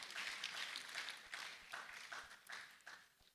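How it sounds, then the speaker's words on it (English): A tech festival audience in Lagos, Nigeria applauding as the next speaker is called up, a quiet, uneven patter of clapping that swells and fades in small waves, with no voices. "Please, a round of applause while we're expecting off stage."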